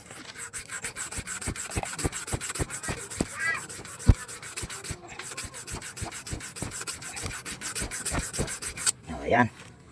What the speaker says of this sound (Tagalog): Basta niliha ko lang yung shafting niya.